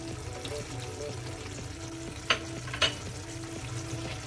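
Chili being stirred into a sauce in a pan, a steady low sizzle up close with two sharp utensil clinks in the second half, no voices heard.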